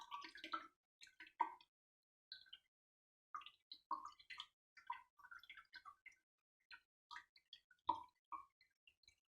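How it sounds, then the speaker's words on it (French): Wet pulp made from recycled paper scraps drains quietly, giving scattered irregular drips and small plops of water falling close by, separated by short silences. "Et là, je laisse s'égoutter."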